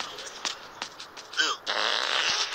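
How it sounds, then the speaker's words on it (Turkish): Cartoon fart sound effect in the video game Angry King, a short rising, wobbling squeak that stands out among brief game blips and a following burst of noisy effect sound. "Osurdu."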